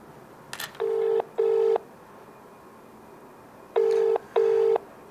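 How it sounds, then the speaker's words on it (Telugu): Phone keypad tones as a number is dialed: four steady DTMF beeps in two pairs, separated by a pause, clear and close with no talking. "మళ్ళీ కాల్ చేద్దాం సేమ్ నెంబర్కి"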